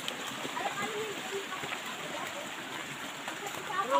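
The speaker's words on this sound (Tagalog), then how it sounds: "grabe ang ulan" Heavy rain pours down during a mountain trek, a dense, steady hiss of water close around the microphone that holds level for the whole stretch and swells slightly at the end.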